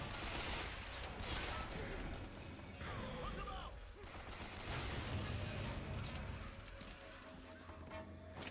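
Dense gunfire and combat noise in BioShock Infinite roll on as a steady crackling wash with scattered sharper bursts, fairly quiet overall, while someone talks at times.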